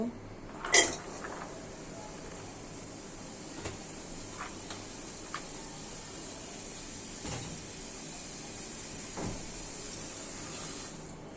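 A metal rice pot clanks once as it is lifted off the stove, followed by quiet, sparse kitchen clinks and faint background noise.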